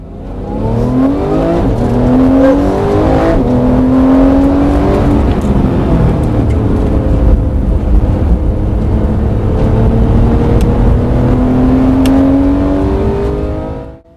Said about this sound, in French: À la moindre sollicitation de la pédale d'accélérateur, le moteur rugit et les 475 chevaux ne demandent qu'à être sollicités.